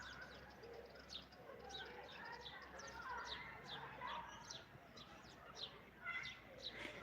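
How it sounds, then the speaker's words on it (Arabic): Small birds chirp in quick, repeated bursts over a soft outdoor background, with a low cooing call mixed in; the calls are fairly faint and scattered. "عصافير زقزاون"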